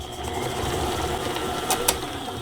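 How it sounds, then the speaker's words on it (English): Electric hand mixer beating oatmeal cake batter in a bowl, a steady close whirring drone held evenly throughout with a couple of brief sharper scrapes near the end. "now we're going to beat this together a little bit"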